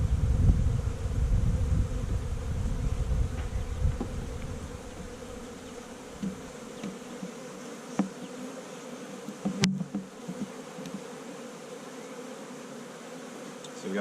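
Honey bees at the hive during queen cage removal, a dense close buzz that thins into scattered individual bees droning and passing near, with a few knocks.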